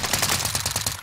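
Rapid automatic gunfire in Call of Duty on the Fortune's Keep map, a tight burst of repeated shots fired in quick rhythm for about a second, loud and close.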